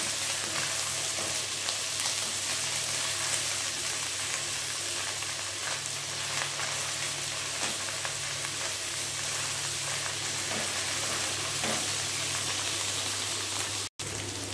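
Ginger and garlic paste sautéing in a hot pan with oil, a continuous loud sizzle and crackle with occasional stirring, close up and steady with no talking.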